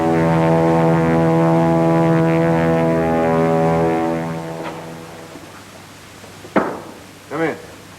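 A Curtiss P-40 propeller fighter drones steadily in flight, its rich harmonic engine tone holding for several seconds before fading away, followed by a couple of brief spoken words.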